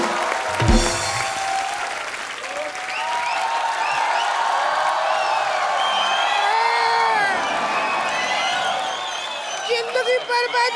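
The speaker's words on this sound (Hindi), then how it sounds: "ओए जोरदार तालियां।" A studio audience at a comedy talk show breaks into loud, sustained applause and cheering, with whoops and shouts rising over the clapping, which swells and then tapers off near the end.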